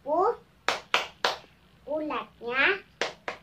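Kindergarten children perform a rhythmic clap chant about a butterfly, with young voices singing short phrases between sharp, close hand claps in a patterned sequence.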